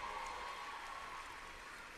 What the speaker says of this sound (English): One more big round of applause for all the entertainers that took to the stage tonight